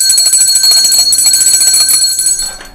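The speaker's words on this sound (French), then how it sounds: "cloche." A bell rings loudly and continuously at close range, bright and sustained, with faint background sounds beneath it before it fades slightly at the end.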